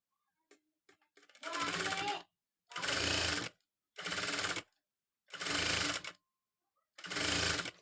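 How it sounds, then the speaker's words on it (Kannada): A sewing machine stitches the neck of a katori blouse front in five loud bursts of rapid mechanical whirring, separated by short pauses with light handling clicks. "ಈಗ ಇದನ್ನು ಸ್ಟಿಚ್ ಮಾಡಿ ತೋರಿಸ್ತೀನಿ ನೋಡಿ"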